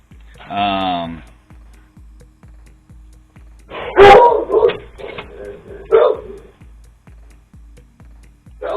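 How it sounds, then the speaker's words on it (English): Dogs bark indoors in a few sharp, loud bursts and yips separated by pauses, over a steady low ticking hum. "Sorry about my dogs."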